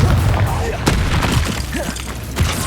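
Spell-casting effect in Hogwarts Legacy, with repeated booming bursts and crackling impacts over dense game combat noise, plus a voice in the mix.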